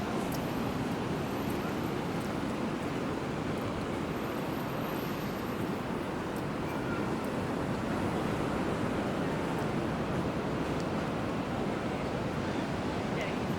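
Surf washing onto the sand at Manly Beach, Sydney, a steady broadband roar of breaking waves with wind buffeting the microphone, continuous and fairly loud with no clear gaps.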